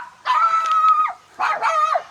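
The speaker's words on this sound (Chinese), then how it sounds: "宠物狗啊，泰迪呀！" A teddy poodle pet dog gives two drawn-out, yelping barks close by, each about a second long with a short pause between, in a quiet rural vegetable garden.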